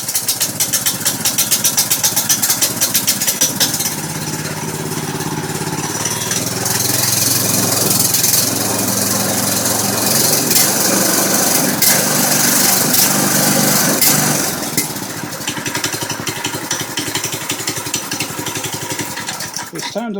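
A Baja MB200 minibike engine with a newly installed torque converter runs steadily at close range, a buzzing small-engine drone that swells louder midway before settling back toward idle.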